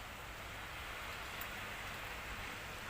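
Heavy rain falls as an even, unbroken hiss, soft and somewhat distant, with no voices or other distinct sounds over it.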